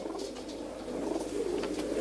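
Pigeons of the Rajan line coo steadily under a dense, fairly faint wash of background noise, with no clear talk over them.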